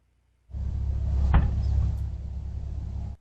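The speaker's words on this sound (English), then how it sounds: "The collision itself happens off camera, but the sound of the impact is fully captured." A heavy crunching impact bursts out over a loud rumbling roar that holds steady for a few seconds before cutting off.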